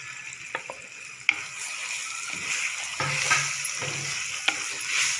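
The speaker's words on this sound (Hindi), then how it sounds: "देखिए हमने अच्छी तरह से बुनाई कर रहे हैं इसकी, टमाटरों की" Mashed eggplant and tomatoes sautéing for baingan bharta, a steady close sizzle with scraping stirs and a few sharp spatula knocks against the pan.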